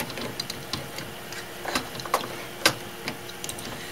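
HP OfficeJet printer mechanism running after its cartridges are reinstalled, irregular ticking and ratcheting clicks at an uneven pace with a few louder knocks, close and fairly quiet over a faint steady hum.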